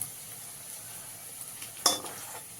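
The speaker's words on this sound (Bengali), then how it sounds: "আবার ভালো করে ভেজে নেবো" Chicken patties frying in a pan at home, with a steady soft sizzle and faint crackle, then a sharp clink of a utensil against the pan near the end, with no talk.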